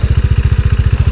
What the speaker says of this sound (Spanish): Ahí notarán y sentirán mucho mejor el sonido de esta motocicleta.